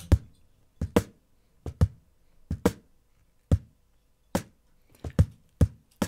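Snare and bass drum hits mixed together with EQ, sharp punchy strikes in an uneven groove about one to two per second, loud and close, each with a short decay and no voices.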